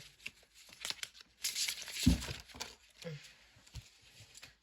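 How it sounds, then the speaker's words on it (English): Tarot cards spill out of a deck with a quick papery rustle and light flutter, brief shuffling bursts mid-way, close by, with a voice talking around them. "Bunch of cards fell out."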